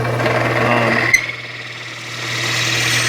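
A steady mechanical whir of a long drill bit boring through wood on a lathe, vibrating, with a sharp tick partway through, then the motor hum continues alone.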